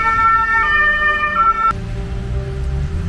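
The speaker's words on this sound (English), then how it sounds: "Another air raid siren now going." An air raid siren wails in Ukraine on a cold, foggy winter street during a blackout, a loud steady tone cut off sharply partway through, leaving low rumbling traffic noise.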